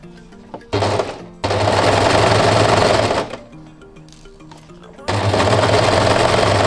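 Sewing machine stitching a pocket bag onto knit jersey shorts, running in loud steady bursts: a short run, a longer sustained run, a pause with faint background sounds, then another run.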